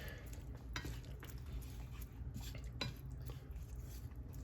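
Ground beef stirred in a pan with a utensil while making healthy spaghetti, giving soft scraping and occasional clinks against the metal, fairly quiet and steady with no one talking.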